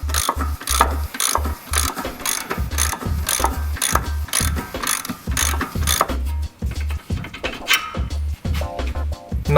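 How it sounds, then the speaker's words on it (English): A hand ratchet works a bolt out of the stock rear shock on a Nissan 350z Z33, with quick rhythmic clicking strokes up close that run in bursts and then turn looser and more scattered near the end. "Simply remove the bolt from this side."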